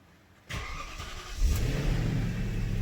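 BMW E39 V8 engine starting: a click and starter crank, then the engine catches with a rising rev and settles into a steady, fairly loud idle, with no voices.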